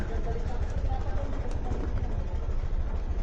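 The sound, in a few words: motorcycle engines idling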